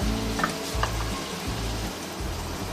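Ground tomatoes hit a hot pan of haleem base and sizzle, a dense continuous hiss close up over a pulsing low hum.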